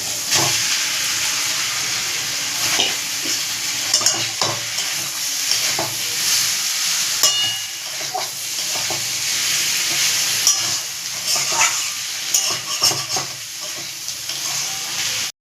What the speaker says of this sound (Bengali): এবার রেডি করা মোচাগুলোকে চিংড়ি মাছের মধ্যে দিয়ে দেবো।